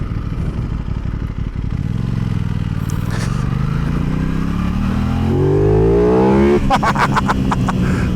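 An Aprilia parallel-twin motorcycle engine, derived from the RSV4 1100 Factory, sits at a loud, close idle and then climbs through rising revs with a rough, throbbing note, followed by sharp crackling pops as the throttle closes.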